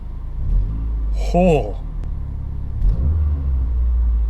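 A 2012 Mazdaspeed 3 with newly installed motor mounts, engine rumbling low and steady inside the cabin as it pulls away, with a brief voice exclamation over the drone.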